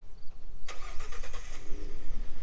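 A Ford F-150 pickup engine cranks and catches after a quiet pause, triggered by a remote starter, then settles into a steady, close idle with no one talking.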